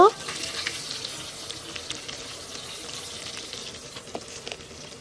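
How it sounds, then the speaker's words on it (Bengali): Hilsa fish pieces frying in oil, a continuous crackling sizzle with small pops and occasional spattering bursts, fairly close and steady throughout. "যখন ইলিশ মাছগুলো ভালো করে ভাজা হয়ে আসবে তখন আমি মাছগুলো তুলে রেখে দিব"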